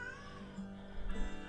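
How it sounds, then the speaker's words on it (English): A pet cat in a home gives a short meow in the background with a faint rising and falling cry, quiet and a little distant. "Sorry if you hear my cat in the background."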